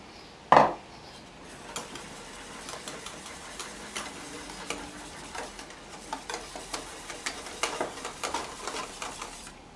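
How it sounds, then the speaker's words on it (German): Eggs and egg yolks whisked together in a bowl for a pasta sauce, a steady run of quick light clinking strokes following one sharp knock, close and continuous with no talking. "Das Ganze wird jetzt miteinander verquirlt."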